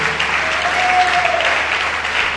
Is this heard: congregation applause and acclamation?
yes